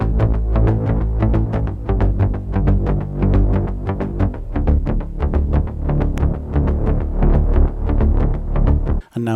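A layered bass synth group built from Hive, Dune 3 and Omnisphere plays a loud, punchy, rhythmic pattern of rapid repeating pulses with a thick low end, cutting off abruptly near the end.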